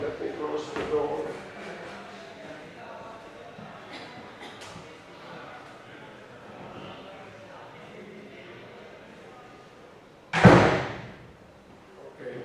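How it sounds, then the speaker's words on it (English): A door is shut indoors during a university lecture on water resources design, giving one loud, sharp slam near the end after a stretch of room noise and faint talk. "Let me close the door."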